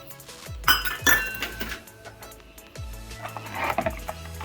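A spoon stirring masala buttermilk in a glass, several bright clinks against the glass in irregular bursts, close and clear with no talking.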